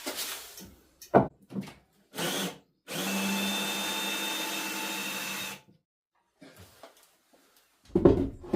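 A power drill fixes a plank into timber studs in short bursts, first a few brief whirs, then one sustained run of nearly three seconds, with handling knocks and a final short burst.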